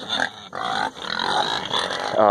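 Pigs in a remote pen grunting and squealing close by, a steady run of snorts and oinks with a short pause partway through.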